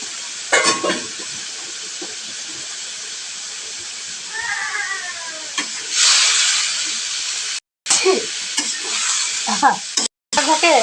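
Egg potato curry frying and being stirred in a pan: a continuous hissing sizzle with scraping spoon strokes, a child's brief crying wail midway, and a couple of abrupt cuts to silence.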